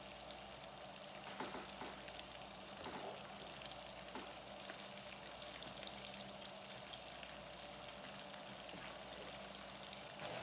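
Onion and crayfish frying in a pot, a soft, steady crackling sizzle with scattered pops throughout, fairly quiet and with no voices.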